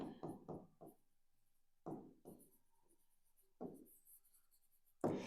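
A teacher writes two sentences on a board: short scratchy strokes arrive in quick bursts separated by quiet gaps, close and fairly faint, with no voices.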